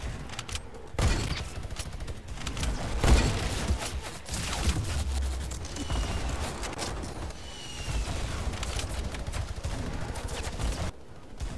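Teammates shooting guns in a Fortnite Team Rumble match: scattered, overlapping gunshots and bursts at moderate loudness, some near and some distant, continuing steadily over a noisy background with a few sharper cracks.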